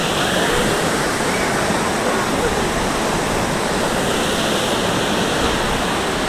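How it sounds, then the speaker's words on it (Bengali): Cedar Creek Falls on Tamborine Mountain, Australia: a loud, constant rushing roar of falling water, close and steady throughout. "এই ঝর্ণাটা খুব দারুণ লাগছে"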